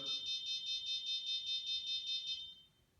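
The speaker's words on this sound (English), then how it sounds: "I can come back here to stop this alarm" A home security system's shrill electronic alarm beeps in rapid pulses, about a dozen evenly spaced tones, then cuts off after a PIN code is entered, leaving faint background noise.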